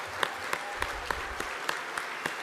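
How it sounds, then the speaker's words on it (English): Audience applause at a freethought convention, steady clapping filling the room for a few seconds with sharp peaks, no voices over it. "let's give him a round of applause"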